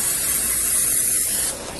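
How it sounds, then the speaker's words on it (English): Cooking spray hisses steadily from a can onto a non-stick pan heating over medium heat, a close, continuous aerosol spray that cuts off near the end. "I do like to use a little bit of cooking spray just to make sure that it doesn't stick"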